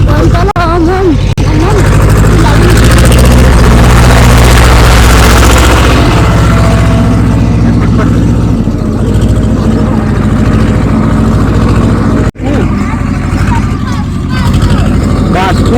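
A loud, rumbling tractor engine runs steadily up close, drowning out people talking over it.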